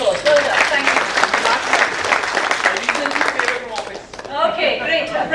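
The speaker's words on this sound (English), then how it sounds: "Give yourselves a round of applause." A conference crowd at a project management event breaks into a sustained round of clapping, with a voice talking over the applause as it carries on and briefly thins near the end.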